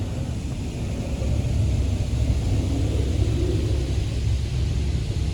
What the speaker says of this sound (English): Now spray the water.